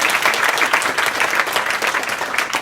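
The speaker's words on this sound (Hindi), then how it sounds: "इस बच्चे के लिए ताली बजाओ भाई।" A classroom of students at a girls' inter college clapping for a child, a dense, lively burst of applause from many hands at once, close and steady throughout the short stretch.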